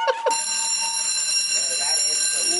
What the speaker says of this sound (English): Yes, we'd love to hear the alarm